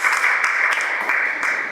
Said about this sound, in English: So clap it up for yourselves for making it here.